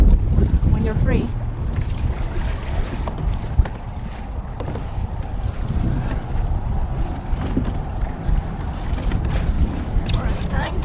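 Strong wind blows over open water from a small paddled boat while sight fishing for redfish, a loud continuous roar buffeting the microphone, with water lapping faintly underneath.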